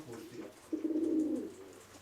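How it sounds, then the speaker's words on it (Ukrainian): A pigeon coos once in a soft, rolling call, close by and clear over a faint background hum, with no voices. "А глянь на того голубка сидить."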